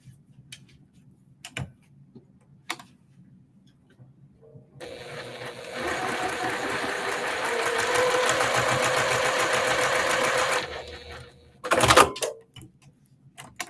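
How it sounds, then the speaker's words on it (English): A sewing machine stitches a quilt block in one steady run of about six seconds, close and even, framed by a few isolated clicks and taps before and after. "All right, so I need to sew this one."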